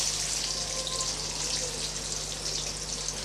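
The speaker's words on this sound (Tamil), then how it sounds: "இப்போ நல்லா வதக்கி விட்டுடலாம்." Small shallots and a medium onion sautéing in hot oil for a Tamil brinjal kara kuzhambu, a steady close hiss of frying with faint stirring, no talk.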